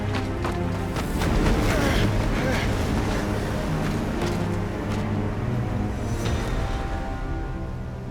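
Windy weather in the video game Final Fantasy XVI, heard as steady gusting rush with a low rumble, fairly loud and continuous, with some clattering and voices over it.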